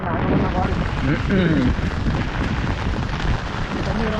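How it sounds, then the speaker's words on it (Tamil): Loud gusting wind roars and buffets the microphone throughout at Kulasai, with some indistinct voices blended into the rushing noise. "காற்று பயங்கரமாக அடிக்குது"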